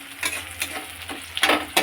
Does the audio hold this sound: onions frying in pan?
yes